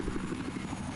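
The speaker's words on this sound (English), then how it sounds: "I'm never gonna get on these helicopters." A helicopter in a shooter video game gives a steady, rapid rotor chop with a continuous engine drone, fairly loud and filling the whole moment with no talk.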